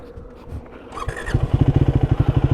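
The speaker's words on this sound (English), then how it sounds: "Maybe if I turn on the motorcycle," A Triumph Speed 400 motorcycle engine cranks and catches, then settles into a loud, rhythmic idle with a steady chugging pulse close by.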